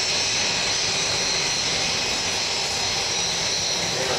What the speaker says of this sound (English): Pilots have complete control over these big propellers, with the ability to put them into what's known as the beach position to produce reverse thrust and reduce the ground roll